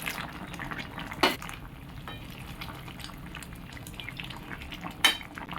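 Fried lentil badi simmer in a vegetable stem curry, a soft bubbling under low kitchen noise, with two sharp clinks of a utensil against the pot.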